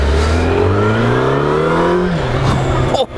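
A 2014 Yamaha FZ-09 motorcycle engine revs hard on a test ride, its pitch sweeping upward through the gears, loud and close, before a sharp drop at the end.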